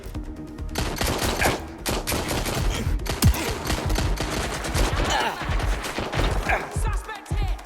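Sustained video-game gunfire in Watch Dogs: Legion, bursts of rapid automatic shots and scattered single cracks filling the whole stretch at steady loudness, with no talk over it.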